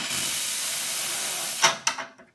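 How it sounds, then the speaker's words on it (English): Steam wand on a Faema single group espresso machine hisses in a strong, steady close-up burst, then cuts off, followed by a few short clunks and sputters. "Let's do some steam."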